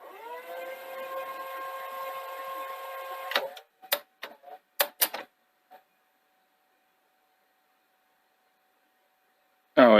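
Sony SL-C30 Betamax tape mechanism running with a newly fitted motor gives a steady, fairly quiet humming whine for a few seconds, then a string of sharp mechanical clicks and clunks before going silent, with one final click at the end.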